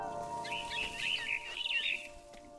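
A frightened bird calling in a video game, a run of quick, high, faint chirps and tweets fluttering together over a steady electronic hum.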